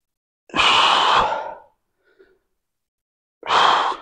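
Two loud, breathy inhales from a person doing a wide-stance squat in a fitness class, the first lasting about a second and the second starting near the end after a pause, with no talking.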